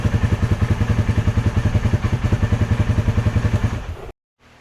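Engine of a Ranger utility vehicle idling just after startup, a loud, close, rapid, even chugging pulse with clattering mechanical noise that cuts off abruptly at the end.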